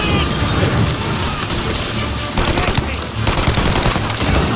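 Heavy, sustained gunfire in the game Mafia Definitive Edition, a dense continuous roar of overlapping shots and blasts that fills the whole stretch at close range.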